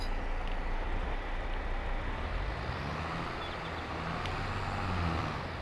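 A tractor engine in Farming Simulator 22, a modded machine, rumbles steadily at a low pitch and fairly quiet level, with a faint shift in tone partway through and no talk.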